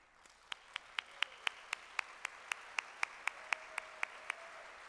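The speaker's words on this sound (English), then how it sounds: "if you could please stand real quick for a round of applause" Claps at an awards gala honoring the event committee, heard as sharp, evenly spaced single claps in a steady rhythm, fairly close and moderately loud over a quiet room.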